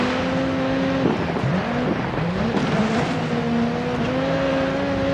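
Engines of rally cars race in DIRT 4 at Montalegre rallycross in Portugal, with a close revving drone that rises and falls as gears change and a second car sits right behind, loud and steady with no talk.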